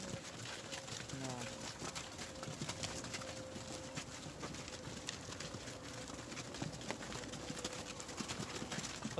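Cows walk along a country road between Tver and Vyshny Volochyok, their hooves clopping faintly and irregularly while people talk quietly nearby.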